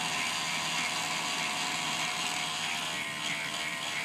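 A K'nex shaft synchronizer mechanism spins up with its brake disabled, giving a steady, fairly loud whirring rattle of plastic gears and a ratchet-like clicking that runs without a break and with no talking.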